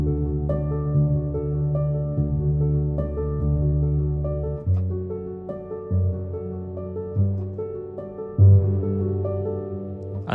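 Piano plays a slow chord progression with octaves in the left hand, steady sustained chords changing every second or so, close and alone for a lofi or cinematic beat.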